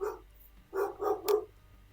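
A dog gives three quick, fairly close barks in a row after a single earlier bark, in a quiet indoor space with a low steady hum underneath.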